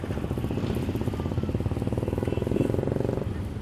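Motorcycles at the start of a bike rally on a track at Polo Ground, Patiala, a loud steady engine drone with a throbbing pulse running throughout, close and continuous.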